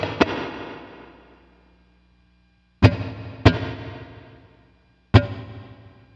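Electric guitar through an ambient reverb pedal on a worship pedalboard: four hard-struck strums, each ringing out and decaying, with the tail cutting off cleanly into silence between hits rather than trailing on.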